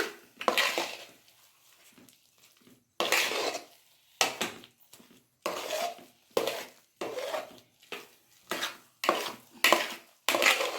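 Pineapple tutti frutti kesari bath being stirred in a pan, a spoon scraping and clinking against the metal in repeated bursts of a second or so, close and clear with no talking.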